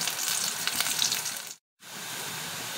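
Curry leaves and onions fry in hot oil, giving a bright, steady sizzle with crackling pops that breaks into a brief silence before resuming.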